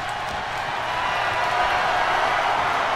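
A wrestling crowd in the WWE 2K24 video game gives a steady, loud roar and cheer that fills the whole stretch without pause.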